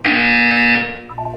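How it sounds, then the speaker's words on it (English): A loud, sustained electronic buzzer from the Portal 2 video game sounds alone for nearly a second, then fades into a softer fluttering tail. "You will hear a buzzer. When you hear the buzzer, look up at the ceiling."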